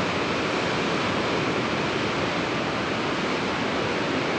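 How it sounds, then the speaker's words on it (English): Ocean water surges in and splashes along a rocky shore near sea lions in Trinidad, California, a dense, constant roar of surf with wind noise and no clear breaks. "The water's coming in more and splashing"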